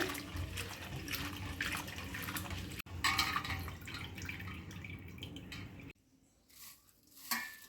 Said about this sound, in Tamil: இதை நான் வந்து தண்ணி ஊற்றி நல்லா 2-3 வாட்டி வாஷ் பண்ணிக்கலாம்.